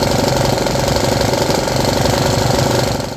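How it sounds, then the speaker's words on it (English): A small 3D-printed engine runs flat out at very high revs, bouncing off its rev limiter in a dense, buzzing, rattling drone that stays loud and steady, then eases slightly at the end. "I think at this point the revs were so high the engine was hitting the rev limiter."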